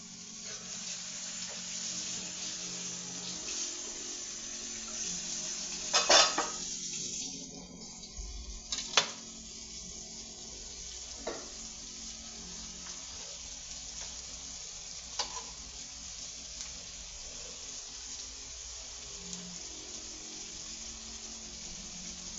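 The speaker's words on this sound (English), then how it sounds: "I'm gonna drop a little bit of butter in there" Butter sizzling in a pan for a chicken stew with rice gives a soft, steady hiss, with a couple of sharper clinks near the start and no voices.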